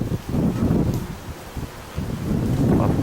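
Gusty wind blows past the microphone outdoors near a bonfire, rising and falling in rough low buffeting surges with a brief lull in the middle.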